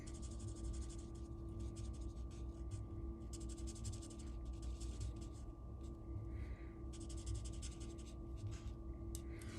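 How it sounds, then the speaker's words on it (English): Soft, steady scratching as hearts on paper are colored in with a Pretty in Pink marker, made of repeated short strokes under a constant low hum. "We're gonna take the Pretty in Pink and we're gonna color in these hearts."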